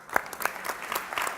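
An audience at a labour-reform panel applauds a union leader, a moderate burst of distinct claps with sharp individual hand strikes standing out from the crowd.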